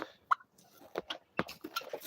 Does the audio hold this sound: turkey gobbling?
yes